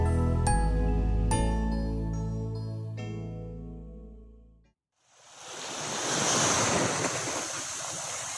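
Surf breaking on a beach along Indonesia's southern coastal route, a steady broadband wash of waves with wind, loud and close, arriving after a stretch of music that fades out.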